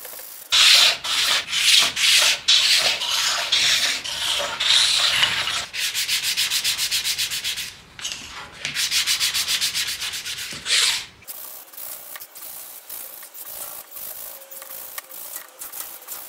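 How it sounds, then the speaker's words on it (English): Wood being hand-sanded on the body of a baby's cot combined with an old DVD cabinet, a steady close rubbing rasp in long continuous passes with brief pauses, alone without any talk. "It's now time to give the body a sand down."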